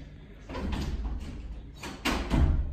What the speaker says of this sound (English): So everyone's trying to close it, it's not happening.